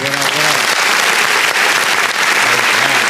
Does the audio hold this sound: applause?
yes